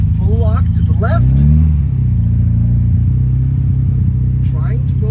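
A 1971 Toyota Celica TA22 engine rumbles loudly in first gear in an abandoned parking lot, a steady low drone with a brief swell in revs, while someone talks over it.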